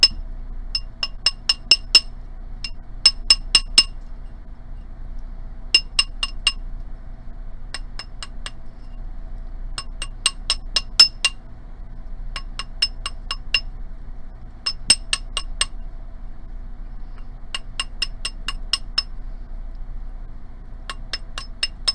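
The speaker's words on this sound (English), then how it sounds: "Now I'm going to go ahead and hammer this whole thing flat against my ring mandrel with my chasing hammer." A chasing hammer strikes a sterling silver ring on a steel ring mandrel in quick bursts of bright metallic taps, with short pauses between groups, close and clear against quiet surroundings.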